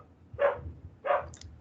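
Two sharp dog barks ring out about half a second apart, moderately close and alone, from a couple of dogs in a house.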